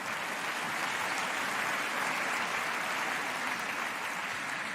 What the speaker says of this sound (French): C'est bien, vous applaudissez à ça.